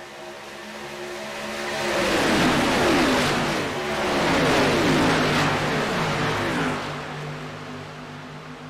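Xfinity Series stock cars racing at Daytona in iRacing roar past in a loud, close pack, the engine sound swelling and fading in two broad waves over a steady background drone.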